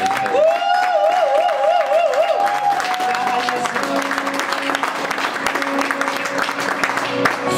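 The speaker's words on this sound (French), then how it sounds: "Acclamons plus fort." Church congregation applauding in a loud, sustained wash of clapping, with a wavering sung or amplified tone audible at the start before it settles into steady crowd noise.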